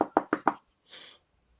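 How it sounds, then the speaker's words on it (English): Four quick, evenly spaced knocks on a door land close and clear, followed by a short soft rustle and then quiet. "There'll be a knock at the door."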